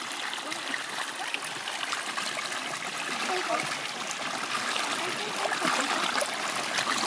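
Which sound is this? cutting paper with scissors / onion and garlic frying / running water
running water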